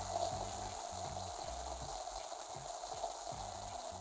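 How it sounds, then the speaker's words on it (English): Cream soda fizzing with a steady, close hiss of bubbles that keeps going without a break, alone and with no talk over it. "Yeah, if you wanted me to hear the bubbles."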